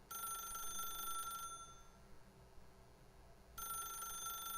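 A telephone in The Stanley Parable rings in two steady electronic bursts separated by a quiet gap, clear and fairly loud against a low background hum.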